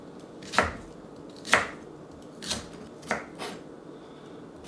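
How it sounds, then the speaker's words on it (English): A knife chops through kohlrabi on a cutting board in five sharp, separate strikes spaced about a second apart, close and clear with no talking. "So chop up the kohlrabi into fairly small pieces"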